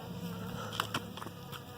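Bees buzz around a borage plant with aphids and ladybugs, a close, faint steady hum with a few brief louder passes, and no talk.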